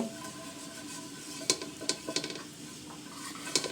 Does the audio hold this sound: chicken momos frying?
yes